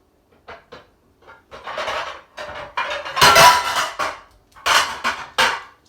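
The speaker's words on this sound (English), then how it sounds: "Let me get my pan." A heavy skillet pan being picked up and handled in a home kitchen, a string of close metallic clanks and scrapes with a louder clatter in the middle, no talk.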